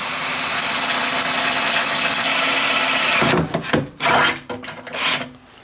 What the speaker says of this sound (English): It's usually easier to keep these smaller drill bits from walking.